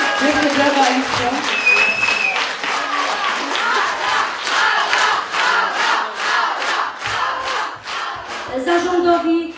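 An audience at an eco-certificate ceremony for schools breaks into loud applause, a thick patter of clapping mixed with crowd voices and a few shouts, while someone speaks over it near the start and end.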